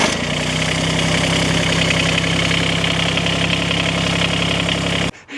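A turbocharged Kubota BX23S tractor engine idles steadily and loudly up close, with a constant low hum and a faint knocking texture, cutting off abruptly near the end.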